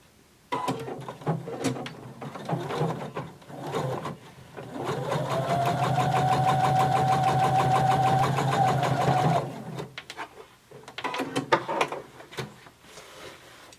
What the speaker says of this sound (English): we're going to sew another line of top stitching about 1/8 of an inch away from the folded turned edge of our pocket